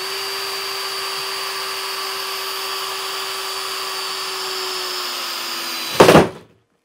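A DeWalt DCK240C2 brushed cordless drill driving a lag bolt whines steadily at high speed for several seconds, then ends in a loud clunk as it bogs down and stops.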